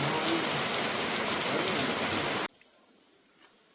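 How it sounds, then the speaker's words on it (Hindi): Heavy rain pours down at a ghat on the bank of the Narmada river, a loud, dense, steady roar that cuts off abruptly partway through, leaving faint background noise. "बहुत तेज बारिश हो रही है।"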